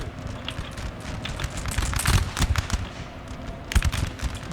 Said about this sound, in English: I'm gonna open fire with my old guard.